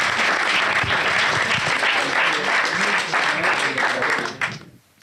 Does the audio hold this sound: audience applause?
yes